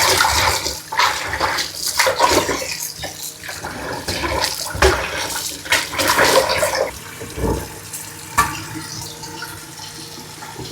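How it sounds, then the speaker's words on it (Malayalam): Tapioca being washed by hand in a vessel of water, with repeated splashing and swishing bursts close by, uneven in rhythm and fairly loud throughout. "ഇതുപോലെ വെള്ളം എടുത്തിട്ട് നമ്മൾ കുറച്ച് മുക്കി ഇട്ടിട്ട് വേണം കഴുകാൻ"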